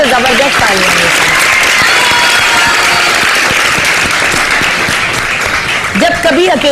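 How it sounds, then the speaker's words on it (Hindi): A studio audience on a Pakistani morning talk show breaks into loud, sustained applause, dense clapping that fills the whole stretch with brief voices rising over it at the start and end. "तो जबरदस्त तालियां हैं।"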